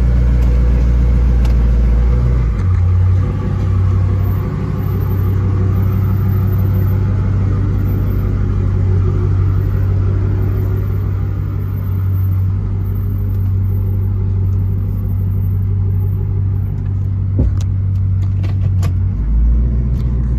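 A 2000 Pontiac Firebird Trans Am engine with SLP LM1 exhaust idles steadily with a deep, rumbling exhaust, close and loud, holding an even drone throughout with no talking.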